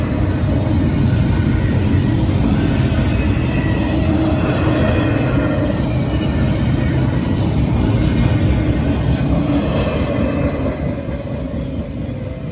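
A CSX freight train hauling containers and trailers, including UPS trailers and Amazon Prime containers, rolls past close by as a loud, continuous rumble with steady grinding rail noise and no break for the whole stretch.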